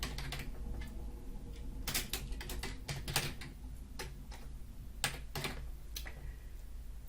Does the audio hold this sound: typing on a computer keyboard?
yes